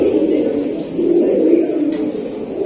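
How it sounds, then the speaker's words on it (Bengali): An orange chila pigeon, a high-flying giribaz type, coos up close in a steady, loud, throaty rolling drone that swells and dips over a few seconds, with no other sound standing out. "এটা কি জাতের কবুতর? অরেঞ্জ চিলা।"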